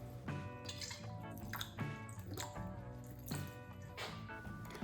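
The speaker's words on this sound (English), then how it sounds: "Add in 2 tablespoons of red wine vinegar." Red wine vinegar pours into chimichurri of parsley and olive oil, a faint, close trickle of liquid with small dripping splashes, quiet and uninterrupted by talk.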